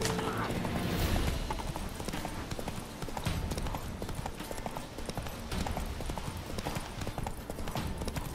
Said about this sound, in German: Da bleibt uns dann wirklich nichts anderes übrig, als nach Ochsenfurt zu reiten und uns damit Vernon Rush